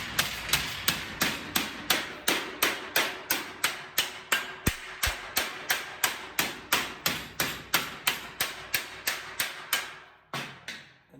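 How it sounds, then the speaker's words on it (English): A body hammer strikes sheet metal on a car door in a fast, steady rhythm, dozens of sharp ringing blows close by, ending with a few slower hits. "when you strike it with a body hammer"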